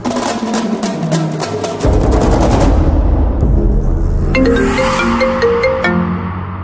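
An incoming call sets off a phone ringtone in a Telugu TV drama scene: a loud, bright, looping melodic tone that repeats for several seconds with no talking.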